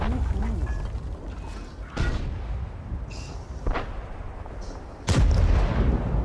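In World of Tanks, tank shells ricochet off the IS-M's armour with sharp, booming metallic impacts. A few loud hits stand out against steady battle noise.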